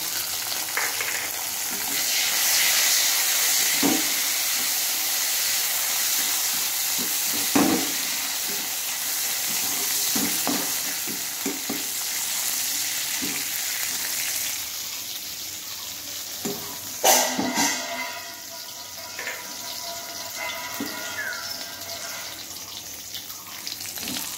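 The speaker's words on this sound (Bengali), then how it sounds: "তো এখন আমি দিয়ে দিচ্ছি কিশমিশটা ভেজে নেব" Raisins fry in a pan with a steady, close sizzle and occasional stirring clatter, over a background of kitchen hiss and a brief running-water sound; no talking.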